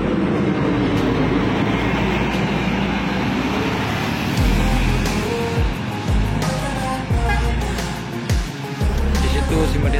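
A GRG intercity bus passes through an Aceh toll gate among steady traffic, a loud continuous roar of engine and road noise with low rumbling swells as heavy vehicles go by.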